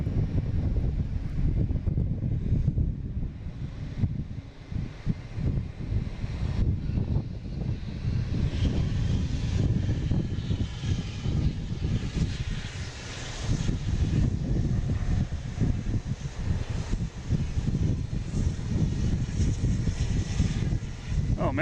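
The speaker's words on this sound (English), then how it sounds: "we got a JetBlue coming in from Bermuda. And A220, flight 204." JetBlue Airbus A220 arriving from Bermuda as flight 204, a low, continuous engine rumble mixed with heavy wind buffeting on the microphone, steady across the whole stretch.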